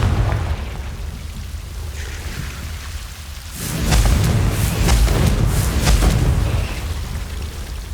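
Fiery Confringo spell blasts from Hogwarts Legacy burst loudly in a rapid cluster of crackling explosions over a rumbling roar. Quieter ambient hiss comes before and after the barrage.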